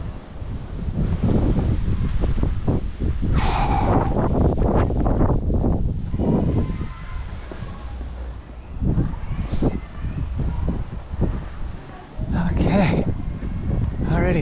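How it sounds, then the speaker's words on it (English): Strong outdoor wind buffets the microphone in loud, rough gusts that rise and fall throughout a walk with a dog, with brief bits of speech poking through the roar. "Get out of that wind."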